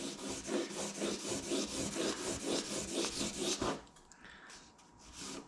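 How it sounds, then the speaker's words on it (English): The sides of a Toyota Prius hybrid battery part are hand-sanded with sandpaper in quick, rhythmic back-and-forth strokes, close and steady, before stopping abruptly and leaving faint handling noises. "it's just sanding the sides, not the middle"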